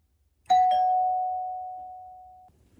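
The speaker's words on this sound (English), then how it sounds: "show the doorbell ringing when I go press the button" A single Wyze Doorbell v2 chime: a bright two-tone ding-dong struck once, its second tone ringing on and slowly fading for about two seconds, with nothing else around it.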